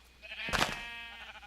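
A single sheep bleats once on a Minecraft wool farm, a short nasal bleat, close and clear over a quiet background.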